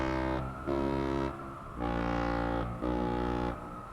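A train horn in the Astroneer video game honks in long, loud, low blasts, three sustained tones separated by short gaps, with no voices over it.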